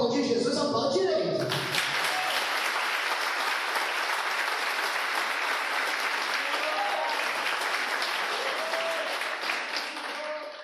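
A church congregation bursts into sustained, loud applause after a sermon, steady dense clapping for several seconds before tailing off, with a voice audible at the start.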